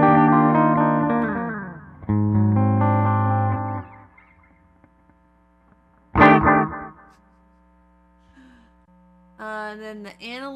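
An electric guitar played through a Line 6 POD Go with a delay effect plays chords and single notes, each phrase trailing off in repeating echoes, with quiet gaps and a faint hum between phrases.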